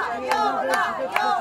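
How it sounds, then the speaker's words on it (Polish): Voices cheer children on at an outdoor sports event, rising in rhythmic shouts with sharp claps at regular intervals, loud and close. "No wszyscy nam tu dopingują i bardzo fajnie."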